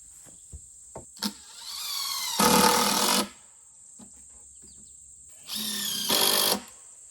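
A power drill drives screws into wood while building a cheap deer blind, with two loud whirring bursts of about a second each separated by quiet and a few faint knocks.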